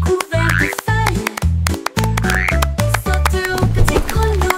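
Frogs croak in a loud, rhythmic series of deep, bouncy calls close by, repeating throughout with short gaps between bursts.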